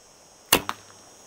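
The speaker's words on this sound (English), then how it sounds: "So again, arrow sticks a little to the right." A bare-shaft arrow without fletching, shot from a bow, strikes the target with one sharp thud, followed by a smaller knock and a brief fading rattle in an otherwise quiet space.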